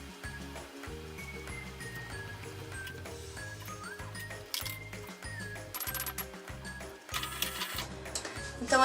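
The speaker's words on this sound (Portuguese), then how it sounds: "a gente vai passar uma costura reta aqui" Sewing machine stitching a straight seam on a skirt waistband, fast steady mechanical clatter in rapid even pulses, close and continuous, with a few faint clicks.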